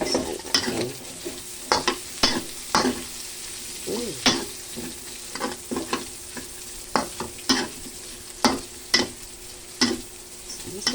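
Sotanghon guisado glass noodles being stirred and fried in a pan: a steady sizzle under repeated, irregular scrapes and clacks of the utensil against the pan. There is no talking.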